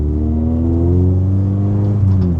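K-swapped Rover Metro with a 1.8 engine revving close up, a loud continuous engine note whose pitch rises steadily, then dips briefly near the end.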